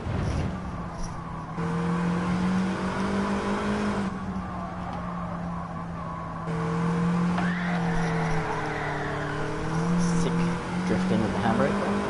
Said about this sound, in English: Drifting with the handbrake.